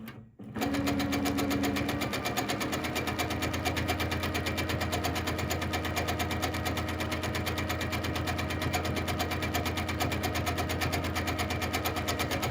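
A sewing machine running steadily for free motion quilting, a fast even needle rhythm held close and continuous after a brief start, with no talk over it.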